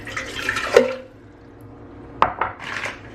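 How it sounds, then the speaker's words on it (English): Water splashes and pours into a bread maker pan in a couple of short bursts, with clinking of dishes and a trickle in between, close by. "all we're gonna do is add into here a cup of water"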